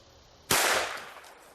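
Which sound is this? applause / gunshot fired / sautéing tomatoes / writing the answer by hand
gunshot fired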